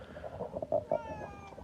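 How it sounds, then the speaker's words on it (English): A pet cat named Scooter meows several times in a short, close sequence, the calls rising and then falling, with no voices over it. "He's just giving us a meow."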